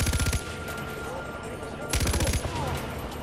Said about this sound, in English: It's a light machine gun, but it has fucking really good range.